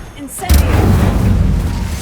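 Incendio, a fire spell in Hogwarts Legacy, bursts with a sudden heavy thump and then a steady, loud roaring whoosh of flame; a brief voice is heard just before the burst.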